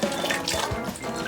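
A drink is poured into a glass, a brief, soft, steady trickle of liquid with light splashing, heard close and quiet with no talking.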